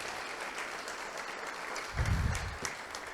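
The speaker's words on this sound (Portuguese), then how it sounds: "Diga amém e aplauda o Senhor" A church congregation applauds the Lord during a sermon, a steady wash of crowd clapping heard at a moderate distance, swelling slightly toward the end.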